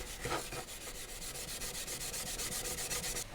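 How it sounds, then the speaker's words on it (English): Scotch-Brite pad scrubbing a brass part of a 1963 paper cutter, a steady rhythmic rasping rub with quick repeated back-and-forth strokes, close and continuous with no talking. "So I've got a Scotch-Brite pad here."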